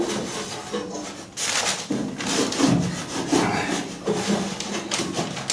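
A cloth rubs and scrubs over painted interior panels of a Triumph GT6 car in close, irregular strokes of varying strength.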